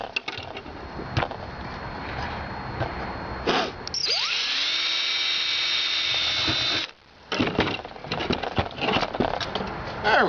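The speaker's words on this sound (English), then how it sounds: "let's go ahead and zap a hole in there" A power drill bores a hole during an oven build, with a sustained loud whine of about three seconds rising as the motor spins up, framed by nearby handling clatter and knocks before and after.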